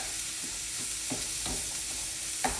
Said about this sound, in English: You guys can see the chicken broth is a-boiling.